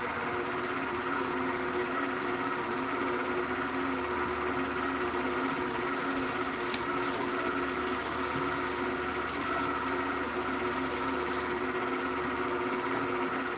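Electric mixer creaming cookie dough for persimmon cookies, a loud steady motorized whir that runs without pause throughout, its low drone slightly wavering.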